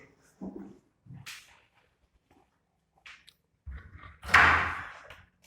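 A door being opened indoors gives a few scattered knocks and rattles, then a louder scraping burst near the end that fades out.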